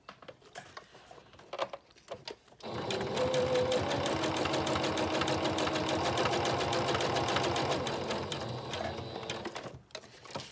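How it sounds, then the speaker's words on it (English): A sewing machine zigzag-stitches around a paper envelope, running in a fast even mechanical rattle for about seven seconds between quieter handling sounds, close and without talk. "Maybe we'll zigzag around this one."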